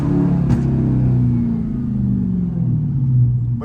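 A hoodless Dodge Hellcat's engine drones low and loud while driving on a road, its deep rumble rising and falling in pitch as the throttle shifts. No one speaks.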